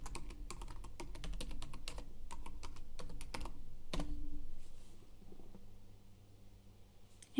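A password is typed on a computer keyboard during cloud setup: a fast, close run of light clicking keystrokes for about four seconds, then quiet with faint room hum.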